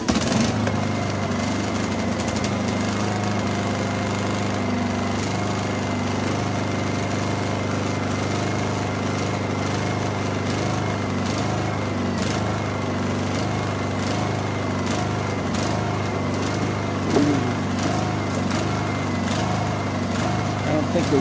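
A Honda EU2000i generator engine runs after being pull-started, giving a steady, continuous small-engine drone at close range that holds even for the whole stretch, with a voice talking over it at times.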